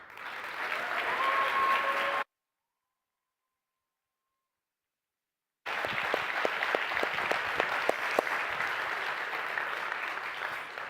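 Audience applause at a TEDx event, a steady clapping crowd that breaks off into a stretch of dead silence before a second loud, dense round of applause resumes and carries on to the end.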